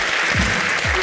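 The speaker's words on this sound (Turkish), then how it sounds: "Alkışlar gelsin bu çabaya" Studio audience applause on a Turkish television quiz show, a steady wash of clapping heard briefly and loudly, with a low voice or sound sweeping underneath.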